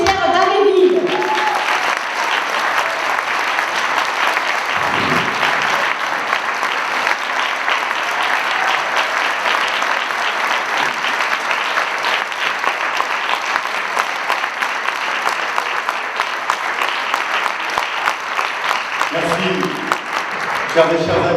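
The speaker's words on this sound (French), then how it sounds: "je vous demande de faire une salve d'applaudissements pour notre député Pierre Daréville" Sustained applause from a large crowd at a political rally on pensions, steady dense clapping for about twenty seconds, with brief voices at the start and end.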